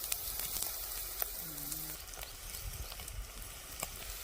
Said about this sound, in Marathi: वाटण पण आपण चांगलं परतून घेऊया